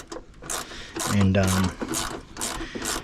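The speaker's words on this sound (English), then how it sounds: "So we're just going to undo the intercooler" A hand ratchet loosens intercooler bolts on a Ford PX2 Ranger, giving close bursts of rapid metallic clicking with brief pauses and a low hum in the middle.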